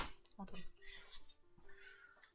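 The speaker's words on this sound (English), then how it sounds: "Here comes my cat again." A pet cat named Zoé gives a short meow close by in a quiet room, one brief call early on with faint indoor rustling around it.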